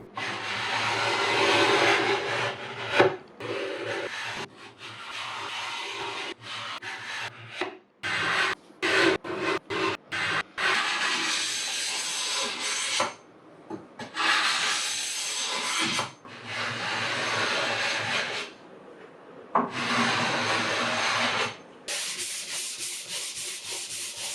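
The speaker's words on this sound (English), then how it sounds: "I wanted to try out my new carbide scraper" A carbide scraper scrapes a wooden furniture top in long repeated strokes, each a loud rasping rub close by, separated by short pauses.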